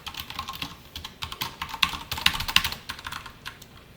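Rapid, close clatter of computer keyboard keys while C code for an array is typed, an uneven run of quick keystrokes with no talking.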